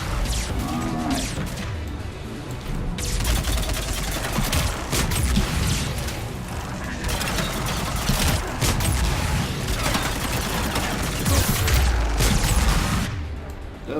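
Dense video-game combat rattles with sustained gunfire and booming explosions, loud and continuous with barely a pause, ending in a slightly quieter tail.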